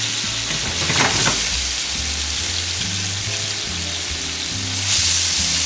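Butter melting in a hot pan for a risotto butter sauce, a close, steady sizzle with low bubbling that swells briefly near the end.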